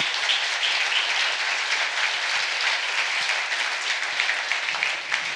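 Steady audience applause fills the space, dense clapping from a crowd welcoming a string quartet at a concert, with no speech over it.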